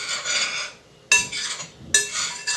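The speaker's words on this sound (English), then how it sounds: "we're just going to mix all this up together first" Dry chickpea cracker ingredients mixed in a bowl with a utensil, giving three bursts of scraping and clinking separated by brief pauses, close and fairly quiet.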